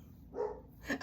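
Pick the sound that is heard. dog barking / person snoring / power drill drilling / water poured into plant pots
dog barking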